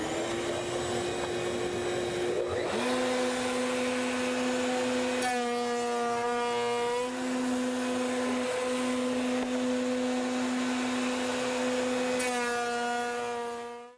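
Wood router with a rail profile bit cutting door stock against a locked fence, a loud steady high-pitched whine running throughout, its pitch dipping as the bit bites into the wood and rising again, with no talk over it.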